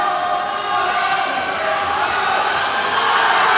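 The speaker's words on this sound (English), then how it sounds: "You can hear the crowd going crazy." Spectators roar and cheer steadily through a close boys' swim race finish between Avondale and Berkley, a dense, continuous crowd noise that swells slightly toward the end.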